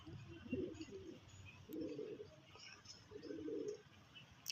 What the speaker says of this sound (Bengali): তো বন্ধুরা এই একখানা পায়রাটা দেখুন এটা নর পায়রা